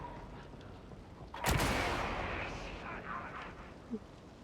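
A single sharp sniper rifle shot from a video game booms loudly, then a long rumbling tail fades under the game's background noise.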